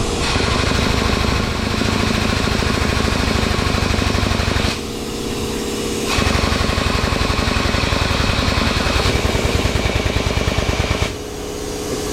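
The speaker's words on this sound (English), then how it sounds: "pneumatic hydraulic press powering on." A pneumatic hydraulic press running in a shop: loud, rapid hammering pulses that go on steadily, with brief breaks around five and eleven seconds.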